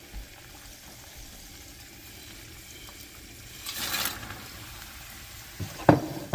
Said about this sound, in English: You want the water boiling, so you're going to be adding the noodles to it.